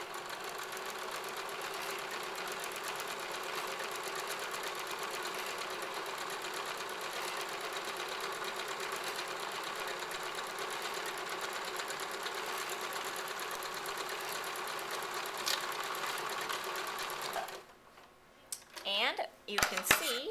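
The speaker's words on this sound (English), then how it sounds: "I will always take a first couple stitches with the hand wheel, and of course I still want to lock in that stitch by back stitching" A sewing machine stitches a zigzag edge down fabric in a steady, fast mechanical whir for a long stretch, then stops, followed by a few soft handling clicks.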